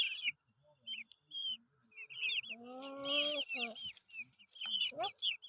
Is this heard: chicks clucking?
yes